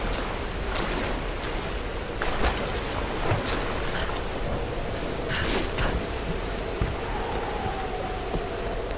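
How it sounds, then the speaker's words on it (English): Water pours continuously from a waterfall in a Tomb Raider game, a dense, broad rushing roar that stays loud and steady throughout, with slight swells and no break. "Maybe there's another secret entrance behind this waterfall"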